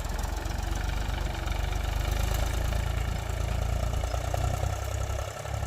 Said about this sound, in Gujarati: ચાલુ ટ્રેક્ટર ચાલુ કરી નાખ્યું છે